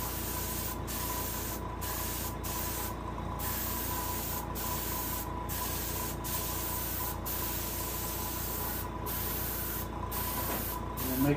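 Paint is sprayed onto a largemouth bass taxidermy mount in a series of short hissing bursts separated by brief pauses, close and fairly quiet over a constant low hum, with no talking.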